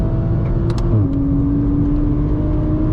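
A modified Toyota GR Supra on a race track, its engine note dropping sharply through a quick downshift and then holding a steady loud drone, close and alone.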